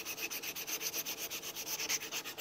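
Rapid, even back-and-forth rasping of sandpaper on wood, close and steady, with quick short strokes throughout.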